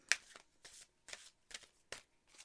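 Four Agreements tarot cards being shuffled by hand, a quick run of soft riffling bursts, close and quiet, with no talking.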